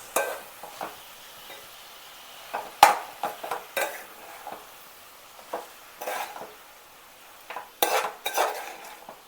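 Brinjal curry stirred in a pan after salt is added, intermittent spoon scrapes and clinks against metal over a faint sizzle, close and without voices.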